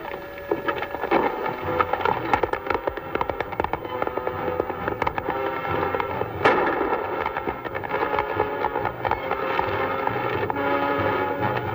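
Gunfire rings out in a 1940 western film, sharp cracking shots scattered irregularly throughout over a busy, loud soundtrack with galloping and action noise.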